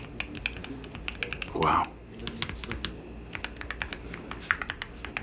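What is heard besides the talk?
typing on Keychron Q6 HE keyboard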